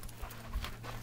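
A dog panting outdoors, quick soft rhythmic breaths close by over a low background rumble, with no talking.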